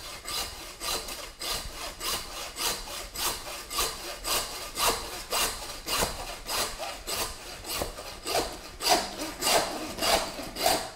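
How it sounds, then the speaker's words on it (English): A hand saw cuts through a deer skull just behind the antler burrs while caping for a taxidermy shoulder mount, giving steady, close rhythmic strokes of about two per second with no talking. "we want to take the saw out, and we are going to come from behind, come in at an angle"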